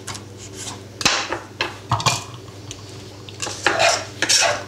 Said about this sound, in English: Just going to just chop it quickly because I'm going to put it in the blender.